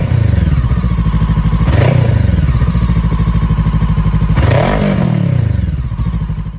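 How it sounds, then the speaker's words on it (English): A standard firing order parallel twin motorcycle engine runs close and loud, with a steady pulsing throb and two sharp revs that rise and fall back. "it's a standard firing order parallel twin, which doesn't sound that great."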